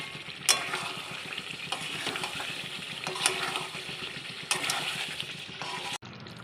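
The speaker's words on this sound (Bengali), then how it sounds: "ঘি দিয়ে আবার আমরা কষবো, মাংসটাকে আর একটু কষে নেব" Mutton pieces stir-fried in ghee in a pan for kosha, made without onion or garlic, sizzle loudly and continuously up close while a spatula scrapes and stirs in steady strokes.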